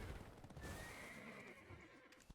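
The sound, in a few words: horse neighing in Black Desert Online video game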